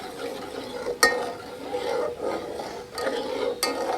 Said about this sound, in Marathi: एकदा आता हे छान मिक्स करून घेऊया